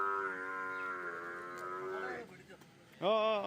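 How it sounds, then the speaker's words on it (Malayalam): A young buffalo calf at a cattle market gives a long, close moo, then a second loud, shorter bellow after a brief pause. "ഇവിടെ കുറച്ച് പോത്ത് കുട്ടികൾ നിൽപ്പുണ്ട്"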